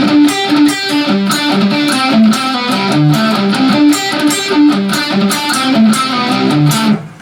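Distorted electric guitar riff, played slowed down: a loud, steady run of picked notes moving up and down in a repeating melodic pattern, with no voice over it.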